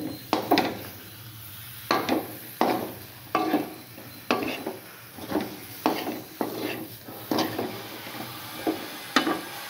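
Coriander being stirred into pepper garlic chicken frying in a pan: a steady series of scraping stirs, roughly one per second, over a soft continuous sizzle, close and moderately loud with no talking.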